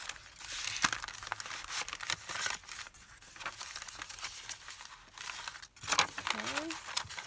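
Vintage paper envelopes are handled and folded for a junk journal, with close crinkling, rustling and crisp creasing sounds in irregular bursts; a person talks briefly over them.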